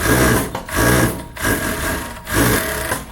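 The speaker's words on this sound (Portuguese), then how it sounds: "E nós vamos passar o overlock." An overlock serger stitches a plus-size unpadded swimsuit piece, its motor buzzing loudly and close in short rhythmic bursts with brief slowdowns between them.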